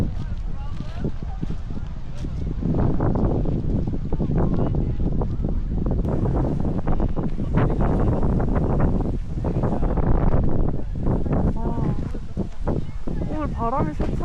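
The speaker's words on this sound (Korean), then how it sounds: "오늘 바람이 세차게 불어서 너무 좋다." Strong seaside wind gusts buffeting the microphone, a rumbling roar that swells and eases, with a voice talking over it.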